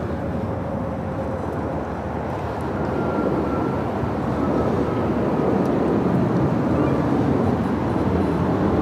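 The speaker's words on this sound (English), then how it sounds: "First takeoff of the stream heading to Chicago O'Hare, United Airlines Flight 1400 at 737 at MAX 9." Boeing 737 MAX 9 of United Airlines taking off at Los Angeles International, a steady, broad jet roar that holds loud and grows slightly toward the end, with no voices.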